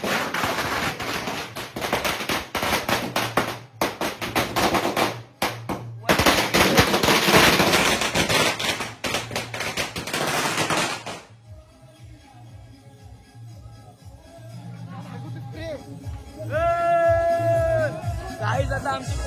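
Strings of firecrackers crackle and rattle in rapid, loud bursts during a Hanuman Jayanti palanquin procession in Koproli, then give way to a quieter stretch of crowd noise and faint music.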